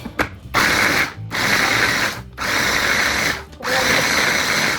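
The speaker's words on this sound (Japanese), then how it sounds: "切って、フードプロセッサーに入れて、このフードプロセッサーって便利よね" A food processor mincing meat for cabbage shumai whirs loudly in four short bursts, separated by brief pauses, its motor buzzing steadily with a choppy grinding texture.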